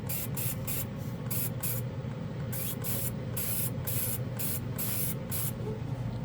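Primer paint is sprayed onto a surface in a rapid series of short, hissing bursts separated by brief gaps, close and fairly quiet, with no one talking.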